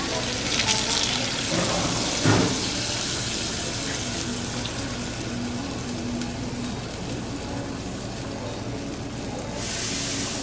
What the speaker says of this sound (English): we're going to throw some water in here